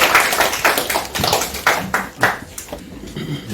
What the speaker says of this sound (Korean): 여러분들 박수로 맞아주시기 바랍니다.